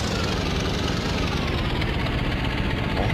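A Piper light aircraft engine in a flight simulator drones steadily at high power, a dense continuous roar that holds at constant loudness throughout.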